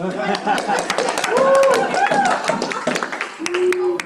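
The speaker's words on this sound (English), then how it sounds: "Wow, that was a good clap." Hand clapping from a real estate team meeting's group, scattered claps with laughter and chatter mixed through, close and fairly loud, with voices talking over it.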